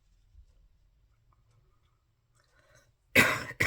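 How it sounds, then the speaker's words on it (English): A single harsh cough bursts out near the end after several seconds of near silence, close and loud, followed by the start of another. "Sorry for coughing."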